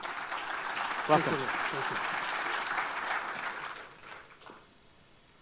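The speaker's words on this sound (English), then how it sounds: "a warm round of applause for your last speaker of the day" An audience at an agricultural conference claps for the final speaker of the day, a moderate round of applause that fades away, with a voice briefly speaking over the start.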